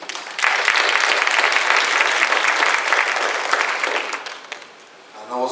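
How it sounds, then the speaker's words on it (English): A room full of people at a community panel on crime solutions applauds the organizer; loud, even clapping begins suddenly, carries for about four seconds, then fades as a voice returns at the end. "So let's give him a round of applause."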